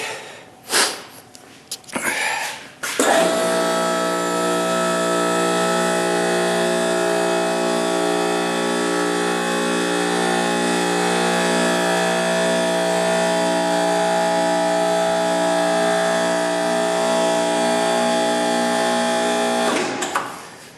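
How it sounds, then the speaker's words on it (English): A Sawzall reciprocating saw cuts out a part with a loud, steady buzzing drone that runs unbroken for about seventeen seconds after a few brief knocks and clatters. "I just cut it out with a Sawzall and some cutters"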